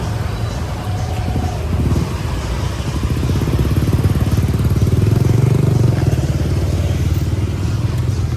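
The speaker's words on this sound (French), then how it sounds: "Hop, avec des petits enfants sur le scooter." A motor scooter carrying small children rides along near a beach on Lombok, its small engine droning steadily and rising slightly in level, with wind and road rumble throughout and no clear talk.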